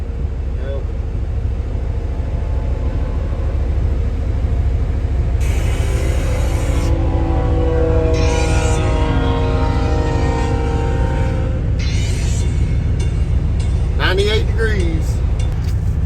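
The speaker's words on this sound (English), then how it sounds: "here comes your train for today" A freight train carrying containers rumbles past nearby in a steady, continuous low roar with rail clatter, a loud broadband wash lasting throughout, while people talk over it.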